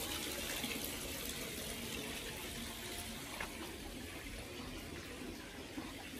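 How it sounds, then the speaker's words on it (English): Tap water from a pipe runs steadily into a backyard pond, a continuous even gush and splash at moderate level, alone with no talk. "so I'm adding water"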